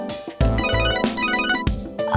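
Phone ringtone in the video game Devil Survivor 2, a bright electronic melody of repeated tonal bursts, loud and close, ringing alone.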